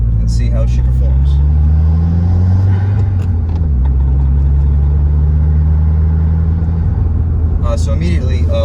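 Subaru WRX with a Stage 2 tune and Stage 2 clutch on a test drive, its engine a steady loud low rumble throughout with a brief rise near the end, under ongoing talk.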